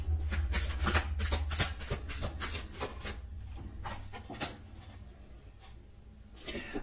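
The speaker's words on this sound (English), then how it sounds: "I'm sorry the shuffling" Tarot cards are shuffled by hand close to the microphone: a quick run of crisp riffling bursts and soft rubbing slides, busy at first, then thinning to a few scattered flicks.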